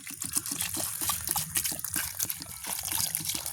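Mushrooms being washed in water, steady splashing and trickling with rhythmic sloshing bursts throughout, close and moderately loud.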